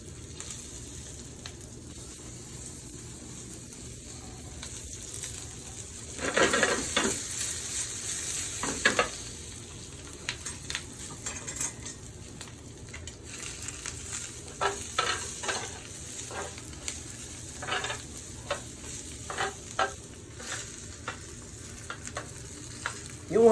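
Vegetables sizzle and get stirred in a hot pan during outdoor cooking in Guyana, a steady frying hiss broken by a few louder scraping stirs, close and with no talking.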